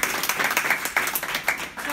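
A crowd applauding volunteers at a celebration event in Nottingham, giving steady, dense clapping from many hands, moderately loud and continuous, with faint murmurs underneath.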